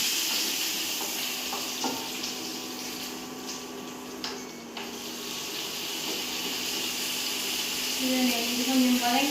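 Onions, green chillies and curry leaves sauté in a hot pan with a steady, loud sizzle and fry hiss that runs throughout, with occasional stirring scrapes and faint background voices.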